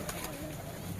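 A brief, faint murmur of pigeons cooing softly inside a loft, heard alone at low volume.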